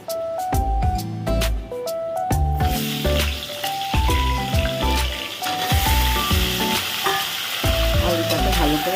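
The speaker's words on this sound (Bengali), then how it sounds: "ভেজে নেব।" Small cut potato pieces fry in oil with panch phoron and cardamom in a home kitchen, giving a steady loud sizzle and bubbling that runs under prominent background music.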